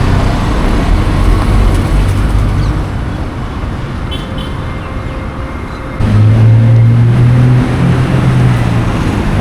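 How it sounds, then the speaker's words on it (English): Busy Colombo street traffic with government-run local buses, a steady roar of engines and road noise throughout, growing louder and deeper midway as a heavy bus rumbles close by with a sustained low engine drone. "These are all government operated buses."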